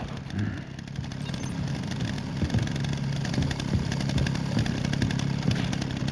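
A chainsaw engine in the video game Resident Evil Requiem runs continuously with a rough, buzzing drone that rises and falls slightly, fairly close and without any voices.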